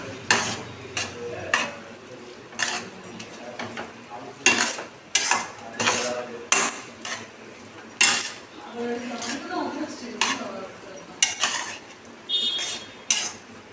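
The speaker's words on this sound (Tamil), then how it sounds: "இப்போ நல்லா மிக்ஸ் பண்ணி விட போகிறோம்." Maggi noodles stirred in a metal pan, with irregular sharp scrapes and clinks of a spoon against the pan over a faint background hum, some quiet talk now and then.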